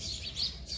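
Sparrows chirp outdoors in a quick run of high, faint tweets over a soft background hush, with no voices.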